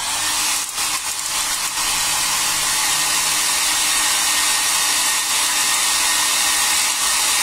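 A hair dryer blows steadily and loudly to dry paint on pine wood, running as a continuous close whoosh from start to finish with no talk.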